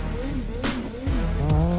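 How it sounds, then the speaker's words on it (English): A college engineering students' race car engine revving, a loud, close, rising and falling engine note with a brief tire screech, under a voice. "Rev up your engines."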